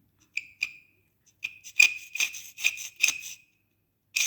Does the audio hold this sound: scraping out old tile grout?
yes